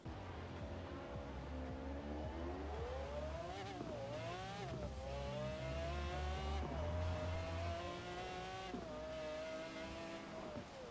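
A McLaren F1 GT engine in Forza Horizon 4 revs hard and climbs through the gears, its pitch rising and dropping at each shift, loud and continuous with no talking.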